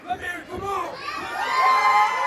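Crowd cheering and shouting in a wrestling video game, a loud swelling roar of many voices with whoops that builds toward the end.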